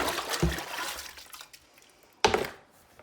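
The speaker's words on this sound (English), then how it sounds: "Been washing out some Tupperware." Tupperware being washed in a kitchen sink, with water splashing and swishing in two short bursts and quieter trickling between them.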